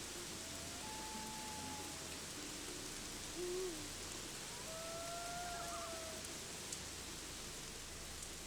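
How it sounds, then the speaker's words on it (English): Rain in the video game Gothic 3 gives a steady, soft, even hiss throughout, with a few owl hoots drifting over it. "It's raining, but I'm not seeing any raining effect."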